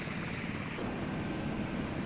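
Helicopters flying over a naval battle in the Sea Power combat simulation, a steady rotor and engine drone holding at moderate loudness throughout.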